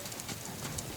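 Horse hooves clip-clop steadily through a first ride, with close, even footfalls and no voices.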